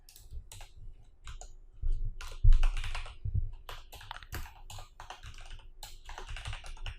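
Someone types an SQL query on a computer keyboard in an uneven stream of close, crisp key clicks, with a few louder keystrokes and brief pauses between bursts.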